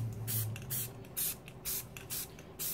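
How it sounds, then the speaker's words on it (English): Spray paint can hisses in a series of short puffs, each a bright burst of about a quarter second with brief pauses between, close and fairly loud. "You want to do it from a distance and in little puffs."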